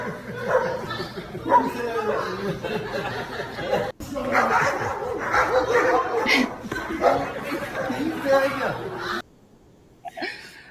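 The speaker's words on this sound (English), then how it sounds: "these dogs are in a playful mood" Several dogs in a backyard bark and yip playfully in quick overlapping bursts, close and lively, with whimpers mixed in and people talking over them, before the noise drops away near the end.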